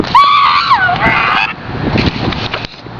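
Seagulls on a beach give a loud, harsh squawk close by, followed by rougher, broken cries over wind and background noise.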